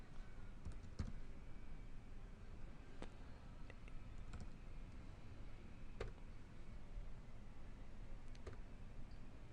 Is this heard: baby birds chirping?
no